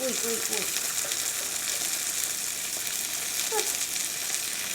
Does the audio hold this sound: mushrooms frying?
yes